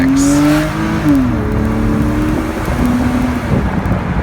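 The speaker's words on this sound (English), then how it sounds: "the sound of a Porsche flat 6" A 2005 Porsche Boxster flat-six engine drones and revs up and down, pitch rising then settling, heard close from inside the moving car with the top down, with wind and road noise.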